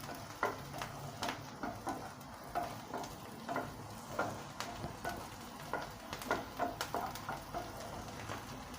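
Curry leaves hit hot oil in a pan for aloo 65, giving a soft, steady sizzle with scattered crackles and light ticking pops throughout.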